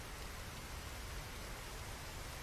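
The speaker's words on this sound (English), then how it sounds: "Maybe he likes the feel of the rain on his skin." Rain falls in a scene from the anime Death Note, a steady, even hiss of dense rainfall with no distinct drops standing out and no voices.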